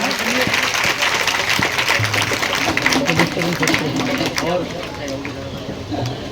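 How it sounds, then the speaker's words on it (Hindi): A village audience at a Bhagwat Katha religious gathering claps loudly and continuously, with voices talking and calling out over the applause. "ताली बजाओ जोरदार।"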